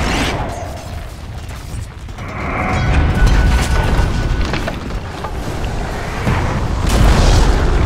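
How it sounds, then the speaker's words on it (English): A tower crumbling apart in the Dota 2 match, with a rumbling boom that swells from about three seconds and stays loud and dense to the end, mixed with crackling debris and game effects. "Dire's middle tower has fallen."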